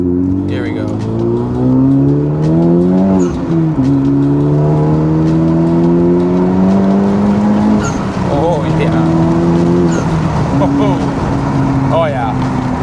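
A tuned Honda Type R accelerating on rough Edmonton roads, its engine climbing steadily through the gears in rising revving sweeps heard from inside the car, loud and continuous with a person talking over it.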